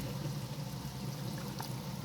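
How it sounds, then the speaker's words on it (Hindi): Water poured into a pot of bhindi gosht (okra and meat curry) being cooked at home, a steady low splashing trickle lasting about two seconds, close and fairly soft with no talking. "अब इसमें हम थोड़ा सा पानी डालेंगे"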